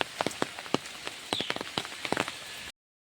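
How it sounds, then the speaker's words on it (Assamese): Rain patters on a village road in rural Assam, with irregular close drops striking a surface in quick, uneven taps before the sound cuts off abruptly. "এইফালে মই ছাতিটো লৈ লৈছোঁ বৰষুণ কাৰণে"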